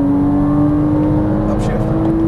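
Porsche Cayman S engine under full throttle, a loud steady drone rising slightly in pitch, close and sustained, with a driving instructor talking over it.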